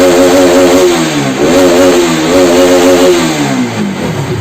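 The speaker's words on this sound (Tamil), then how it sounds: "நான் ஃபுல் தாட்டில் தான் கொடுத்துட்ருக்கேன், இருந்தாலும் வண்டி வந்து ரைஸ் பிக்கப் ஆகலை." Bajaj RS200 motorcycle engine revved repeatedly at full throttle while struggling with a pickup problem, loud and close, its pitch rising and falling in surging waves with no talk.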